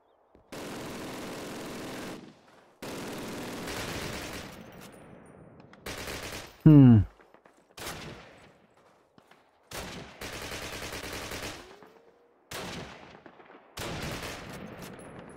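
Automatic gunfire in Call of Duty, set in a World War II British campaign at a V-2 rocket site. Loud bursts of machine-gun fire come in separate blocks with short silent gaps between them, and there is almost no talk.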